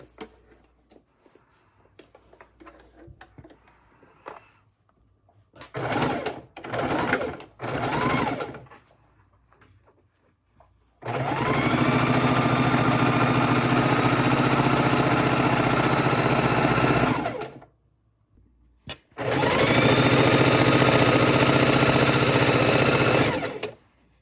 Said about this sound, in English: we're going to sew these, our 1/4 inch seams, all the way down, right sides together